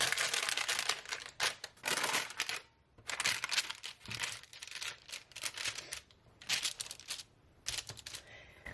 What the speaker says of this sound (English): And then you can just peel it away from your paper.